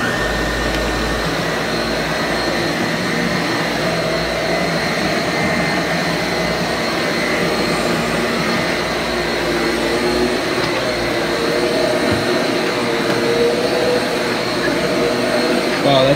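A Bissell PowerClean Slim Pet 3339 stick vacuum runs with its brush spinning, a steady close whirring drone with a high motor whine that holds evenly throughout.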